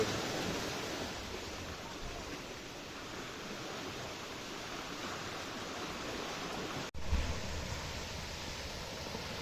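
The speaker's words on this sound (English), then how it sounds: "Waves." Steady broadband roar of ocean waves washing against a rocky shore during a rock fishing trip, continuous and fairly loud with a brief dropout near the end.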